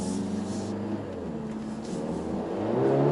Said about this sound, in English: And that sound, especially in the race mode, when you let go the acceleration pedal, you can hear that AMG